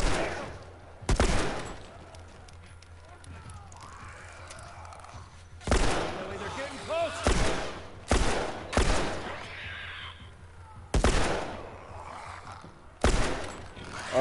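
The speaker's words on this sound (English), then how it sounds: "the shooting's awful" Gunfire in The Last of Us on PS4: loud, sharp bursts of shots in irregular clusters, several rapid volleys separated by quieter gaps with faint game ambience.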